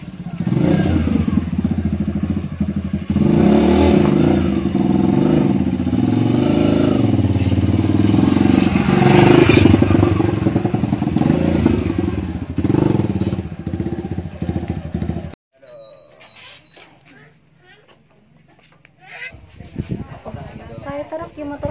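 KLX motorcycle engine revving loud and rough for about fifteen seconds, then dropping away abruptly, followed by quieter background sounds.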